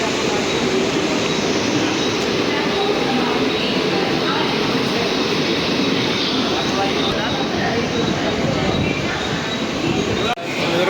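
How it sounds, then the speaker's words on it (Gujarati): A crowded Mumbai local train bound for Churchgate pulls into a station with a loud, steady rumbling roar that fills the whole stretch, and voices blend into the din. "આપણે ચર્ચ ગેટ જવા માટેની ટ્રેન આવી ગઈ છે"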